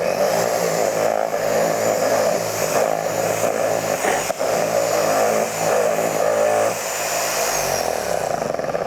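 An entry-level Liquid Elements car polisher runs on a detached Hyundai hood, a loud, steady motorized whine with a buzzing low hum and a high tone, briefly dipping and shifting in pitch as the pad is worked across the panel.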